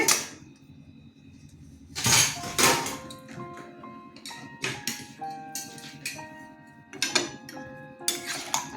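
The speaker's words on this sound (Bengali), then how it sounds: "দু মিনিট পর ঢাকনাটা খুলে নিচ্ছি" A metal lid comes off a pan of green jackfruit (echor) curry with several sharp clanks and clinks, separated by quieter moments of scraping and a light rattle of cookware.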